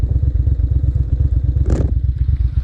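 Close, loud, rhythmic low thumping comes from the carbureted engine of a 2001 Ducati Monster 600, broken by a brief scraping hiss partway through. No one speaks.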